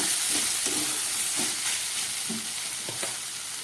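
Ridge gourd fries in released oil in an uncovered pan, a close, even sizzle with a few soft knocks of the spoon against the pan, and no talking.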